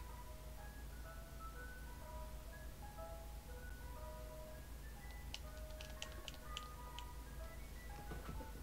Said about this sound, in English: It's time for the ice cream truck to come around and blare its fucking music.